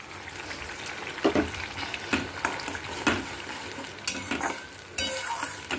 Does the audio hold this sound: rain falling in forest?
no